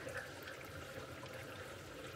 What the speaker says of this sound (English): you can see the water rushing through.